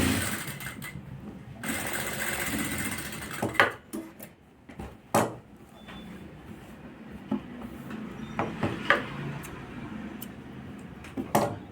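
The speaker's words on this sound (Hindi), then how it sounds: "अब इन हिस्सों को मिलाकर और यहाँ भी सिलाई लगा देंगे।" A sewing machine stitching coat collar pieces, running in a continuous close whirring burst, then stopping and starting in short runs with light ticking and handling clicks between.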